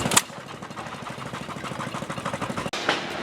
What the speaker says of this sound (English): They got a hit and miss engine